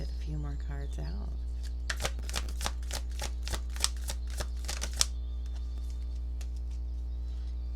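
Tarot cards riffled and shuffled in a rapid run of about a dozen crisp snaps, close and fairly loud, after a brief stretch of talk and then quiet.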